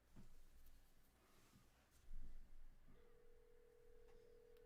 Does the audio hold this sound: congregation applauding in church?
no